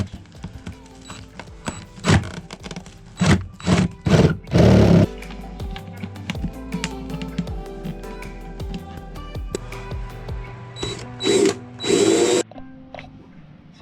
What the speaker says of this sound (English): so then I can use the spade bit to drill the hole a little bit lower